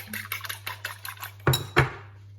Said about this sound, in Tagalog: Batil og itlog.